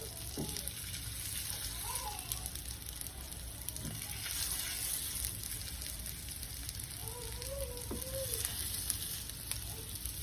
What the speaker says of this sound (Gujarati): હું ઉપરથી તેલ એડ કરું છું અને તવા ઉપર શેકું છું